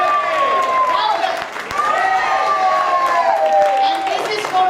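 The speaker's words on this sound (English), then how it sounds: "Clap your hands and say yay as much as you can." At a City of Duarte women's leadership gathering, a standing crowd keeps up loud, continuous shouts of 'yay' and cheering, voices swelling in waves over scattered clapping, with one brief dip near the middle.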